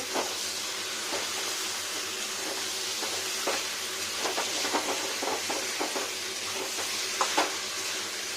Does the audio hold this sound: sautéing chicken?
yes